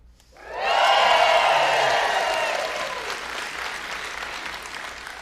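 A comedy club audience breaks into loud applause and cheering after a juggling double toss, the clapping swelling quickly, holding strong, then slowly tapering off.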